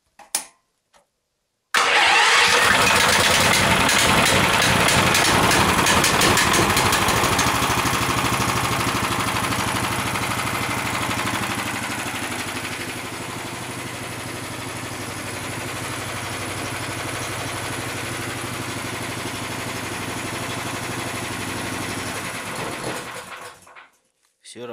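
A motorcycle-engine pusher tug starts abruptly and settles into a steady, loud idle that runs for about twenty seconds before cutting off.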